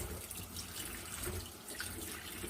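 A kitchen tap runs in a steady, even stream over freshly churned homemade butter made from raw cow's milk, rinsing out the buttermilk, with soft splashing close by and no voices.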